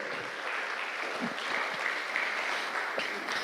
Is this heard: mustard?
no